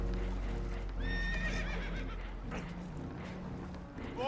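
Spooked horses on a boat taking on water in the video game Red Dead Redemption 2 whinny and neigh loudly in several rising and falling calls over a deep rumbling wash, with clopping hooves.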